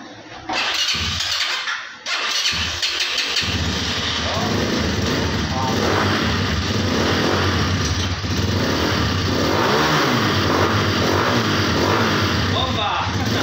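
A Microbike MX250 motorcycle is push-started, then its engine catches and runs with a loud, steady buzzing drone close by. Voices talk over the running engine.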